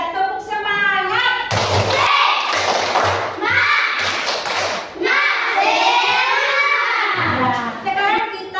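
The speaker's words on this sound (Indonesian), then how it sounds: "coba sekarang minta tepuk semangat" Schoolchildren in a classroom clap a rhythmic spirit chant, with bursts of patterned hand claps and thumps alternating with loud group voices, all close and energetic.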